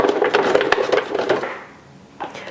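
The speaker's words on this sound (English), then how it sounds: "let's use the protector and let's slice away." Potatoes for scalloped potatoes being sliced on a mandoline slicer with a hand protector: a quick run of rhythmic scraping strokes, close and fairly loud, then a short pause before a final stroke.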